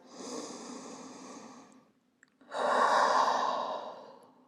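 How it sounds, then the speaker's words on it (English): Deep, full breaths taken slowly during a relaxation exercise for shoulder care, a long airy exhale followed after a short pause by a louder, fuller breath, close and clear with no talking. "we take another 3 breaths here,"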